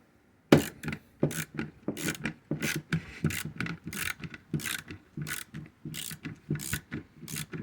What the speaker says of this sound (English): I have a socket wrench, and now we'll unscrew that thing.